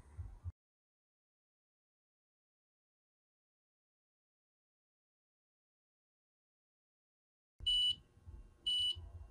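After a long silence, a Rheem Prestige water heater's leak detection alarm sounds two loud, high electronic beeps close by, following a brief thump at the start.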